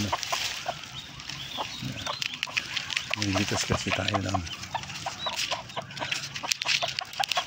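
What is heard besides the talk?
chicken clucking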